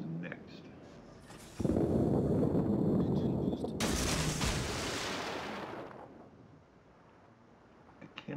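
Heavy warship guns boom in World of Warships: two big blasts with long rumbling tails roll out after a quiet start, then fade back to near silence.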